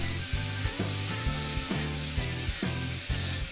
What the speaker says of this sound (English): these sanding wheels can be obtained with a fine grit or a rough grit